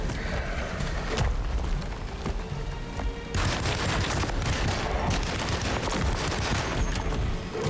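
Sustained machine gun fire in a shooter game, loud dense bursts of rapid shots with heavy thumping impacts, pausing briefly mid-way before another long stretch of firing.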